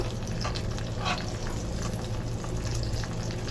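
Pabda fish frying in hot oil, giving a steady, dense sizzle that stays fairly loud and even throughout, with no voices over it.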